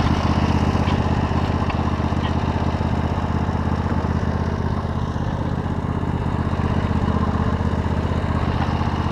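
A lawn mower engine runs steadily at a loud, constant idle, a rough continuous drone that stays close throughout with no talking.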